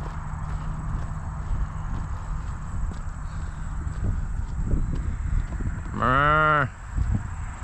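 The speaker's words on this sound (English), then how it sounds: "Look at all the cows over there." A cow lets out a single loud, drawn-out moo near the end, over a steady outdoor rumble and faint footsteps on the Appalachian Trail.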